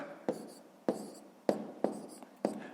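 Pencil writing numbers on paper during a fifth-grade subtraction exercise, with five sharp taps and scratchy strokes spaced about half a second apart, close and fairly quiet.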